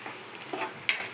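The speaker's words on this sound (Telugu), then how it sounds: "తర్వాత ఇక్కడ నేను అల్లం తురుము వేస్తున్నాను." Grated ginger tipped into a frying pan for chicken curry and stirred, with a brief soft scrape, faint sizzle and a sharp metallic clink of a spoon against the pan near the end.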